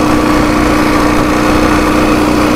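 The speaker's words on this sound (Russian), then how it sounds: "Так-то Уральчик прет." A Ural motorcycle engine runs loud and close, a continuous rough, buzzing drone with steady vibration and no pauses.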